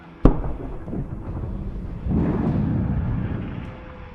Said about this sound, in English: the enemy vehicle detonates spectacularly, spewing ammunition